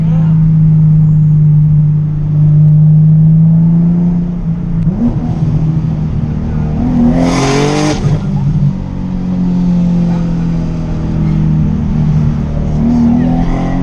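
A 600 hp twin-turbo Nissan 370Z accelerates hard along a street, its engine droning loud and steady throughout with rising and falling pitch through the pulls, heard close from inside the car.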